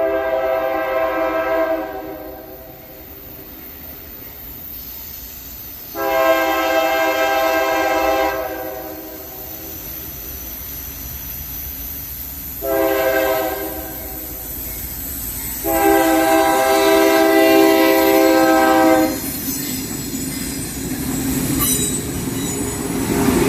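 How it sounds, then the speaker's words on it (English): CSX freight work train with a Dash 8 leader and a boxcar at the rear, sounding its horn in four long blasts over the rumble and wheel noise of the passing cars, close and loud. "This was definitely a really cool work train to catch"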